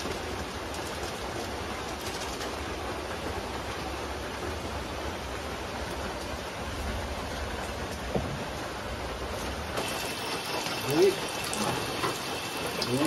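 Steady rain hisses over a jungle in Indonesia, a dense even wash of drops near a stream, with a brief faint human sound near the end.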